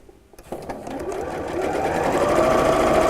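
Sewing machine stitching a line across patchwork fabric for a pin cushion: the motor starts after a brief pause and runs steadily, growing slightly louder, close up and alone.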